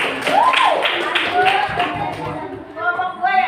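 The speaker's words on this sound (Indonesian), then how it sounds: "Tepuk tangan aja buat Aldi." A small group in a classroom-style gathering claps briefly for Aldi, a few close, uneven hand claps under and around speaking voices. The clapping tapers off after a few seconds.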